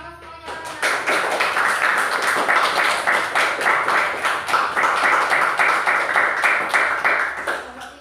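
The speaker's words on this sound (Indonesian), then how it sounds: "Tepuk tangan semuanya." Classroom applause for a student group that has just given its response, a dense, steady patter of many hands clapping that swells in and holds loudly for several seconds.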